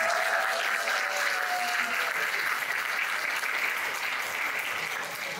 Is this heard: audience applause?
yes